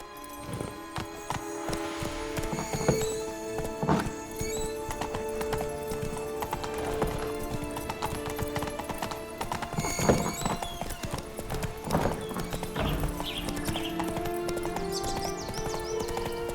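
A horse in the Witcher 3 video game gallops with steady, rhythmic hoofbeat clip-clops, close and continuous, over a layer of game music, with an occasional whinny.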